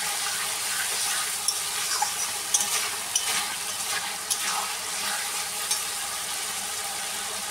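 Tarka with chopped green chillies frying hard in hot oil: a steady, close, dense sizzle runs throughout, broken by light stirring clicks and taps scattered across the middle.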